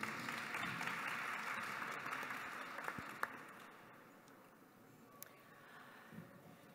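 Audience applause welcoming the speakers at a panel discussion, a dense steady wash of clapping that slowly thins and fades toward the end, with a few scattered louder claps.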